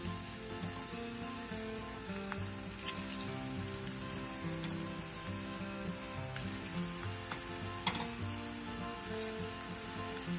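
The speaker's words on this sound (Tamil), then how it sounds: "இப்போ பொறிக்கிறதுக்கு நான் பேனில் எண்ணெய் ஊற்றிருக்கேன். எண்ணெய் நல்லா சூடாயிடுச்சு. இப்போ நம்ம ஒவ்வொரு போண்டாவாக வந்து போட்டுட்டே வந்துடலாம்." Onion bondas, a Tamil tea-stall snack, sizzle and crackle steadily in hot oil in a pan over a medium flame, a dense, even frying hiss throughout with small pops.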